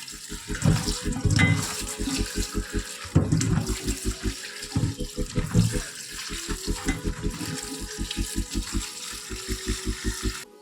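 Tap water runs over Malabar spinach in a kitchen sink, a steady splashing stream that rises and falls as the leaves are handled, with a rhythmic low background sound beneath.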